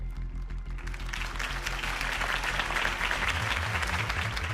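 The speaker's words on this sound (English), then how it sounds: "If only Mr. Wayne, my campaign's largest backer, could have heard that applause" A crowd at a political campaign rally in the Batman Telltale Series video game breaks into sustained applause, dense and steady clapping for several seconds over a low musical drone.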